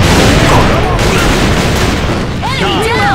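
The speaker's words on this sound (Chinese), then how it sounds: "你啲爆炸係變態喎" Booming explosions and gunfire in the online shooter game AVA, loud dense blasts filling the mix with a player's excited voice talking over them and swooping effect tones near the end.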